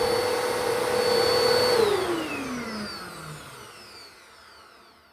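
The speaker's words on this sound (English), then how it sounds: "how about that for a nice vacuum there, folks? That thing is nice and quiet." A quiet vacuum cleaner is heard from the end of its run as it switches off, its steady whine dropping in pitch and fading gradually into silence as the motor winds down.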